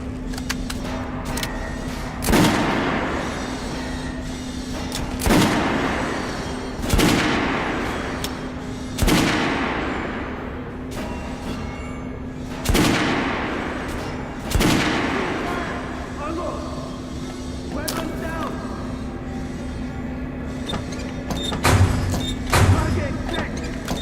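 Pistol shots ring out at a firing range in Metro Last Light, about eight sharp, spaced reports, each with a short echoing tail over a low steady hum, fairly loud and evenly paced.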